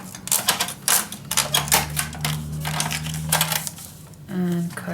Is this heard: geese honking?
no